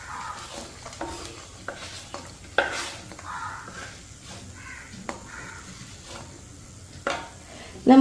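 Dried shrimp hisses and crackles in a pan with crushed chillies, with quiet sizzling, scattered stirring scrapes and clinks of utensils throughout and a sharper clatter at the end.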